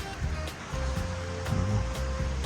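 A river flows beside a campsite by Pebble Creek, a steady close rushing wash with low rumbling layers and a few soft thumps.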